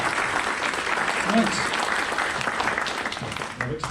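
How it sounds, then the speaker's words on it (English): Audience applause for a speaker at a SMPTE UK industry event in London, sustained clapping from a seated crowd with someone speaking briefly over it near the end. "Another round of applause for John"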